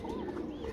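A Sialkoti pigeon gives a short, soft cooing call close by, one brief low warble under faint background noise.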